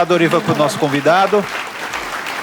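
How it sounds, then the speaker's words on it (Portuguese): Studio audience applause closing a Portuguese-language triathlon coaching podcast episode, with a voice talking over the clapping for the first half before the applause continues on its own. "Mais uma salva de palmas para fechar"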